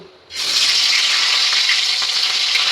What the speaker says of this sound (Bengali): কড়াইয়ের মধ্যে আমি দিয়ে দিলাম সর্ষের তেল তো দেখুন তেলটা আমার গরম হয়ে গেছে এবার আমি মুড়োগুলো ভেজে নেব